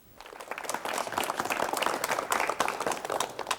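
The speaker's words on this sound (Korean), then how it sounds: "박수로 맞이해 주십시오" A Korean television studio audience breaks into applause, a dense burst of many hands clapping that rises quickly and keeps going steadily, heard alone without any talk.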